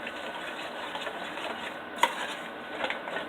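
A spoon stirring walnut pieces into a cheesecake pie filling in a bowl, making soft, close scraping and sloshing sounds with a few light clinks.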